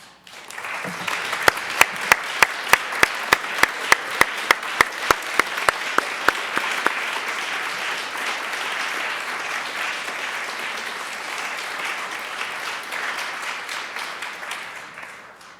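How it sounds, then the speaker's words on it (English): A large audience applauds at a formal dinner honoring an alumnus, starting with a few loud distinct claps that swell into sustained, even applause lasting over ten seconds before fading. "give us a quick round of applause to thank Mr. Toll and his wife, Jane."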